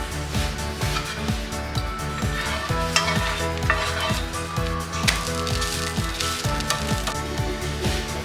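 A sprouted moong dosa cooking on a pan with a little oil drizzled around its edge, giving a close, steady sizzle with a faint crackle throughout and no voices.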